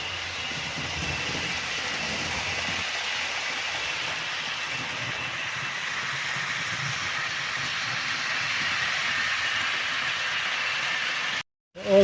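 Model trains with lit carriages, including TGV models, running on an automated model railway layout, giving a steady continuous rolling hiss and rumble, close and even, with no talk, before cutting off near the end.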